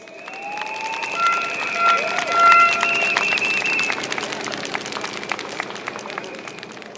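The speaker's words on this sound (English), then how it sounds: "please give a round of applause to Jacqueline Fernandez" A crowd at a PAP rally at Tampines-Meridian Junior College in Pasir Ris-Changi GRC gives a round of applause for speaker Jacqueline Fernandez. Steady clapping runs throughout, with sustained electronic tones ringing over it.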